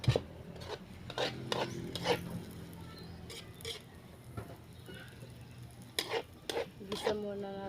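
Food being sautéed in a pan, giving a low background sizzle broken by repeated sharp scraping and rasping strokes of a utensil against the pan, irregular and fairly close.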